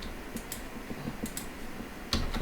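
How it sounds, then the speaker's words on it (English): Keys are pressed on a computer keyboard, including the F key, giving several faint, sparse clicks and taps, with a slightly louder click near the end. "F on the keyboard."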